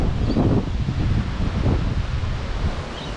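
Strong wind gusts outside a garage on a blustery day, a loud, continuous rumbling roar with rustling surges and no voices.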